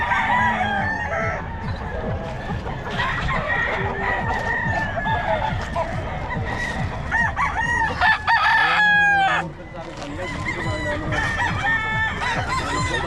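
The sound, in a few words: rooster crowing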